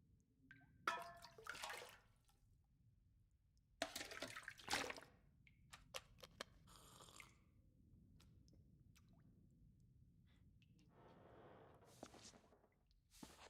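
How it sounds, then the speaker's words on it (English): Water drips and trickles in a toilet in The Long Dark, heard as scattered, faint splashes and short watery bursts against a quiet background, with a longer soft gurgle near the end. "Drip."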